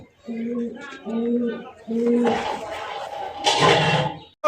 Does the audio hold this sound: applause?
no